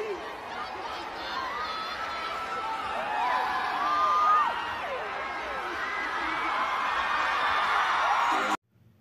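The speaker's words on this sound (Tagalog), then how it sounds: "dinig na dinig ang sigawan at tilian ng mga tao" A large crowd screams and cheers at KCON in the LA Convention Center, a loud sustained wall of shrieks and whoops rising toward the middle and holding steady before cutting off abruptly near the end.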